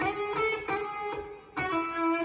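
An electric guitar plays a faux slide lick, gliding up to the third and fourth and back down to the root, with sustained, smoothly bending notes and a few picked attacks, alone and clear.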